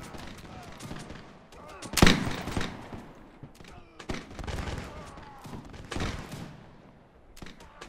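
Musket volleys crackle in the Mount & Blade L'aigle Napoleonic battle, with a sharp loud shot near the start followed by scattered reports at varied distances over a continuous battlefield din.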